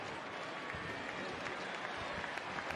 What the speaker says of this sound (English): There's a nice crowd cheering on Odorizzi.